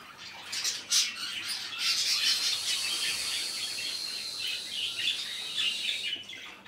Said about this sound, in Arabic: طيور الحب بصراحة إزعاج مو طبيعي